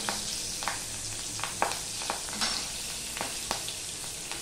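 Four green chillies sizzle in hot oil while hilsa fish curry is cooked, a steady close frying hiss with soft stirring clicks spaced through it and no talking.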